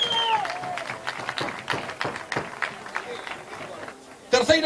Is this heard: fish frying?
no